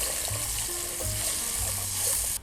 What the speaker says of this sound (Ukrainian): Так, друзі, нальємо водички.